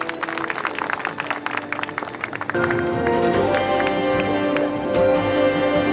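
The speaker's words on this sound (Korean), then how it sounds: "여러분 큰 박수 부탁드립니다" An audience at a Sejong City charity fundraising campaign launch ceremony applauds with dense, steady clapping for a couple of seconds, then sustained music takes over.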